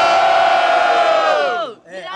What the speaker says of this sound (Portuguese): muito barulho quem gostou das rimas do Spike